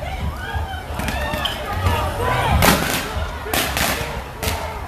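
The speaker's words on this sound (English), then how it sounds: "they're shooting out of the turret up top" Outdoor protest scene where tear gas is fired from a turret atop a vehicle, with several sharp bangs and thumps over crowd noise and someone talking nearby.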